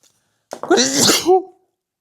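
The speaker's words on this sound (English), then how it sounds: "I was trying to say I'm going to sneeze, and it came out too quick." A single loud, close sneeze bursts out after a moment of silence, a sharp intake then forceful explosive release trailing into a brief vocal tail.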